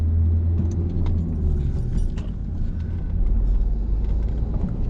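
A car accelerating in second gear on a town road during a driving lesson, its engine a steady, loud low rumble that holds through the whole stretch with faint rattles over it.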